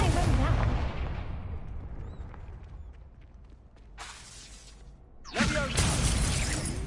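Confringo blasting spell cast in a Harry Potter video game, a loud burst opening the clip and decaying away, followed later by further sharp bursts.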